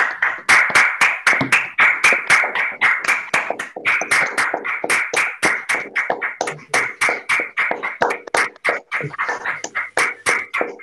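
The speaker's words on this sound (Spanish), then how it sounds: "Silencio, silencio, que hay que aplaudir." Sharp, distinct handclaps from a small group at an award ceremony for the Juan Antonio Fernández del Campo prize, fast and irregular, sustained for about eleven seconds without talk.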